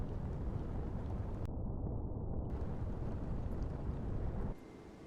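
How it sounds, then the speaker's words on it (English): Naval gun rounds from a New Zealand Navy Anzac-class frigate land on a hostile warship in the Sea Power naval combat game: a heavy, continuous roaring rumble of impacts that cuts off abruptly near the end. "The last of the rounds are falling in."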